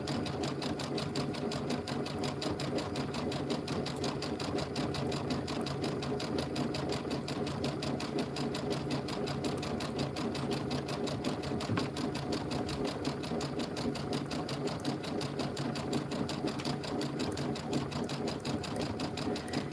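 An embroidery machine stitching a rope bowl in the hoop runs with a continuous, even, rapid mechanical whir and tapping of the needle, steady throughout with no talk.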